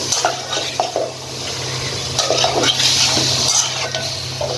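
Broiler chicken pieces are stirred and fried in a pan to dry off their water before spices go in, with close, loud spoon scrapes and clatter over a steady sizzle.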